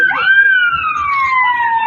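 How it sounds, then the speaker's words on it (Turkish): Ambulance siren arriving at the scene of a chain-reaction crash, a loud, close, rising then slowly falling wail forming a single sweep, with faint murmuring in the background. "Ambulans geliyor"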